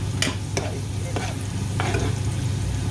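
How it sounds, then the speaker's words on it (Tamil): Onions sauté with salt in a hot pan, a steady low sizzle underneath while a spoon stirs and scrapes in a few distinct strokes, close and clear with no talking. "இப்போ பாருங்கள், வெங்காயம் வதங்கி கொண்டு வந்துட்டுது."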